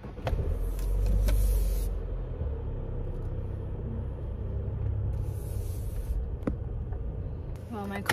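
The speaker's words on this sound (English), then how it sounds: "My car warms up." A car engine warms up as a steady low rumble that swells briefly near the start and then settles into an even idle, heard close from inside or beside the vehicle, with faint background sounds.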